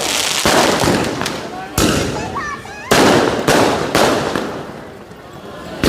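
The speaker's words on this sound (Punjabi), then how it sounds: "ਰੰਗ ਬਰੰਗੀ ਆਤਸਵਾਜੀ ਕੀਤੀ ਜਾ ਰਹੀ ਆ ਤੇ ਅਨਾਰ ਚਲਾਏ ਜਾ ਰਹੇ ਨੇ" Repeated loud bursts of fireworks, firecrackers and fountain fireworks crackle close by at Gurdwara Sri Fatehgarh Sahib during a Sikh festival celebration, several sharp onsets every second or so, with a voice briefly audible between them.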